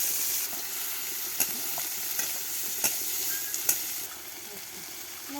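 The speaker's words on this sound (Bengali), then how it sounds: "আর এখন সব রকমের মশলাগুলো কষিয়ে নেব" A mix of spices stir-fries in a pan with a steady hiss and sizzle, punctuated by occasional light scrapes and taps of a spatula, close and alone without talk.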